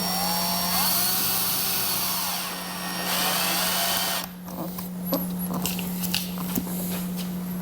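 A power drill whirs continuously for a few seconds driving screws while installing a car audio system, then gives way to short scattered taps and clicks nearby.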